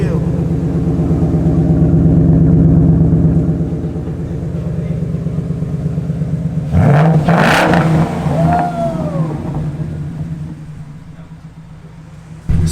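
A Ford Mustang GT with new FlowMaster axle-back exhaust idles with a deep, steady rumble, then blips and revs in short bursts up close while people talk over it.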